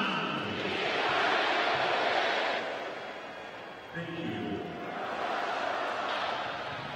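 Crowd at a Major League Soccer stadium during LA Galaxy versus Columbus Crew, a broad continuous roar that dips briefly midway then swells again, steady and fairly loud.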